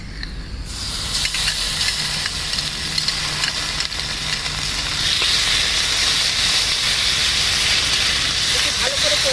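A paste of ginger, cumin and green chili hits hot oil with five-spice seeds, bursting into a loud hissing sizzle that builds and holds, with a faint voice in the background.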